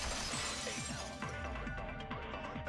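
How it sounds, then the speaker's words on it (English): Glass from a window shatters in a Danganronpa 2 trial scene, a bright crash at the start followed by scattered tinkling shards fading over a couple of seconds. "At the entrance hall, they heard the sound of the window shattering."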